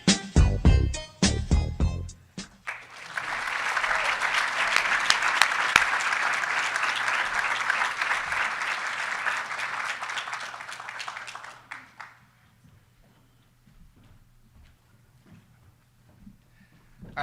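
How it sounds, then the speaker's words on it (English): A large audience at the 2024 Farm Bureau Insurance awards ceremony bursts into sustained, dense applause lasting around nine seconds, then fades to scattered claps and room noise; a few loud sharp sounds come just before it. "let's give these guys another round of applause"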